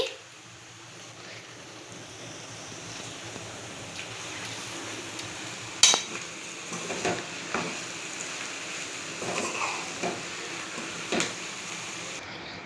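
Pre-boiled chicken fries in a pan with a low steady sizzle, broken by several sharp spatula scrapes and knocks against the pan as it is stirred, close and moderately quiet.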